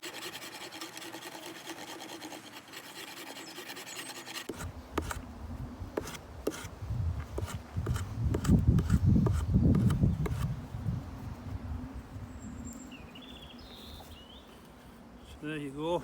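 A kukri-style knife saw strips wood, giving a steady rasping, scraping texture of repeated strokes close by, building louder midway and then easing off.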